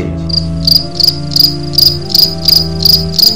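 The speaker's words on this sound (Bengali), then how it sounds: "দূরে শুধু ঝিঝি পোকা ডাকছে।" Loud, high cricket chirps repeating in a steady rhythm, about three pulses per second, over a low constant hum.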